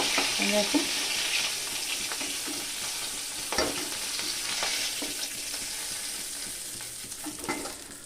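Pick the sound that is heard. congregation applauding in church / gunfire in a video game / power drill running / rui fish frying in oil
rui fish frying in oil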